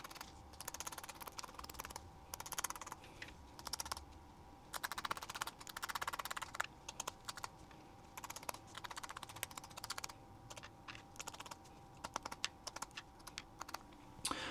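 Close, fine scraping of enamel from the end of a wire tap for an EFHW antenna 49:1 transformer, heard as rapid, irregular scratchy ticks that run steadily throughout at a quiet level.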